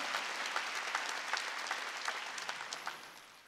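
A church congregation at a Wednesday worship service claps in praise, giving a dense, steady patter with some sharper synchronized beats at a roughly regular pulse, gradually fading slightly toward the end.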